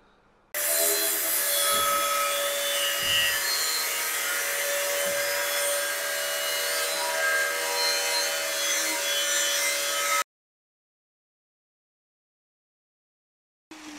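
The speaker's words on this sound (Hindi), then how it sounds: "अभी जो चिमनी के ऊपर का था हिस्सा, उसको कटवा रहा हूँ" Cutting the top part of a chimney, a continuous harsh grinding cut lasting about ten seconds with a few low knocks, then sudden silence.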